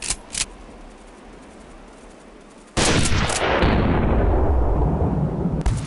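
A single loud rifle shot in the PC hunting game Hunting Unlimited 2011, a sharp crack that rolls into a long, sustained boom and echo fading slowly, preceded by quiet ambience with faint clicks.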